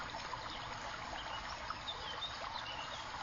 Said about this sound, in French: Écoutez les murmures, les chuchotements, les bourdonnements de l'eau qui cascade